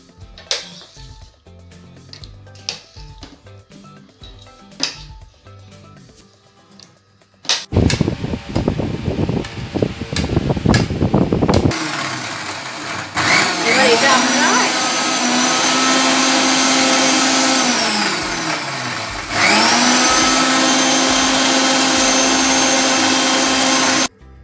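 A kitchen blender grinds mango into a fine paste. It runs in loud, sustained bursts with a rising whir and a brief pause between runs, after a few lighter taps and clatter at the start.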